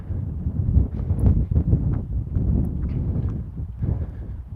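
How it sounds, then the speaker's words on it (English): Steady wind buffets the microphone with a low, rumbling roar that surges and eases throughout, with no voices. "the wind just picked up all of a sudden out here, like it really picked up"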